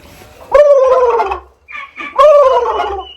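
Two loud bursts of turkey gobbling, each a warbling rattle lasting about a second, with a brief pause between them. Heard up close among other farm animals, with no voices over it.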